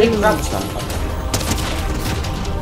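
Rapid bursts of gunfire from an explosive repeater rifle in a video game, dense and punchy with booming thuds, under a player's voice talking.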